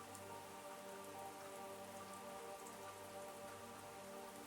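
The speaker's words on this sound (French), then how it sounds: "Tu sens la pluie sur ton visage," Steady rain falls alone in a calm outdoor setting near a Finnish spa, a soft continuous patter with no voices or other sounds over it.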